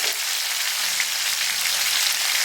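Prawns frying in oil over a medium flame, a constant bright sizzling hiss like light rain, close and even for the whole stretch, no talking.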